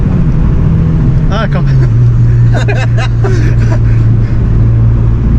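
Audi S1 ABT with a 310 hp four-cylinder TFSI engine accelerating, a steady low drone that rises slightly in pitch, heard from inside the car beneath repeated excited speech.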